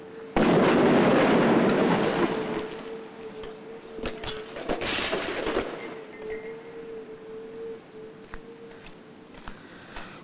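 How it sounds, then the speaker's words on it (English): A large demonstration explosion, ten times bigger than before, erupts with a sudden loud blast. A long rumbling roar follows, with scattered cracks and pops that fade slowly. "let's just try increasing the size of our explosion by a factor of 10."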